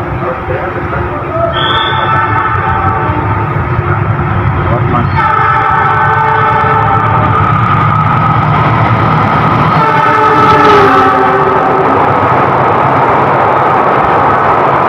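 A loud train rolls by at a station with a continuous heavy rumble while its horn sounds in several drawn-out blasts, one brief high whistle early on.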